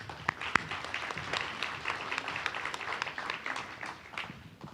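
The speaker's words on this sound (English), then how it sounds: "Please give them a round of applause." Audience applauding panelists at a domestic violence panel during a conference on invisible wounds, a steady patter of many hands clapping at moderate volume with a few sharper claps, no talk over it.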